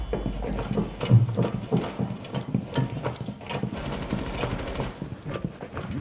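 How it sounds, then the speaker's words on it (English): Rainbow Six Siege gunfire hammers at a window, rapid rattling bursts of shots in a busy mechanical clatter that runs steadily throughout at moderate loudness. "Someone's shooting at this window right here."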